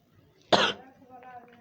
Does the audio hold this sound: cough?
yes